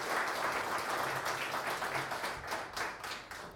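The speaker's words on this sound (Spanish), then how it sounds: "Gracias, muchas gracias por los aplausos." Warm applause from a tourism-week audience in Mar del Plata greeting a speaker, many hands clapping in a full, steady roll that thins slightly toward the end, with distinct closer claps standing out.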